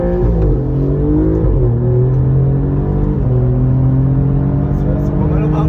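An Alfa Romeo Giulia GTAm with an Akrapovič exhaust in sport mode, heard from inside the car: the loud engine climbs in pitch through repeated rising revs and gear changes, with people talking over it.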